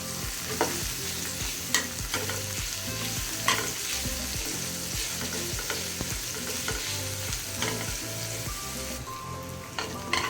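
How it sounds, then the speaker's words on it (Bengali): Onions frying in hot oil in a pan, a steady loud sizzle with the scrape and clack of stirring repeating throughout, no one talking. "ভালোভাবে পেঁয়াজগুলো ভেজে নেব।"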